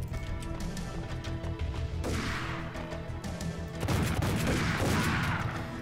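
Gunfire in the game Max Payne, with volleys of shots and crashing impacts near and loud over a dense rumbling background, swelling into heavier bursts toward the end.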